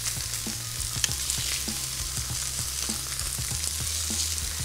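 Tomatoes sear on a hot griddle with no oil, giving a steady close sizzle broken by small pops and crackles.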